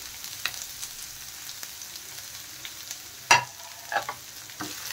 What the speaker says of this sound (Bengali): এখন এইগুলো একটু ভেজে নেব।